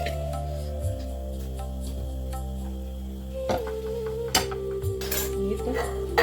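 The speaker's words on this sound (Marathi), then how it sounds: "इथं घेतलंय मी हे तांब्याचं पाणी साईडला ठेवून घेते." A copper pot of water is set aside in a home kitchen, giving a few sharp metallic clanks and clinks against a steady low background hum, close by, with no talking.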